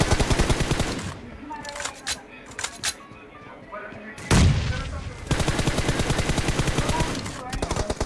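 Rapid automatic gunfire in the video game PUBG Mobile: rattling bursts of fire, with a heavier blast mid-way, followed by a long sustained volley, while a voice talks over the shooting.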